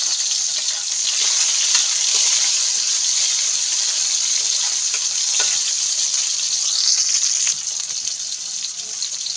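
Onion, garlic and tomato sauté in a pan for bitter gourd, making a loud, continuous hissing sizzle that stays steady, with faint bubbling and no talk.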